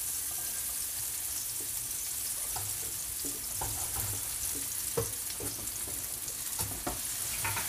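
Onions frying in a pan with cooked tomatoes for Filipino kare-kare, a steady soft sizzle with occasional stirring clinks and scrapes, close and fairly quiet, no talk.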